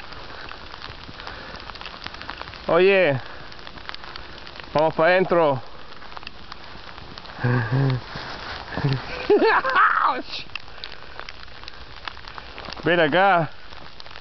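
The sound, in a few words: heavy hail falling outdoors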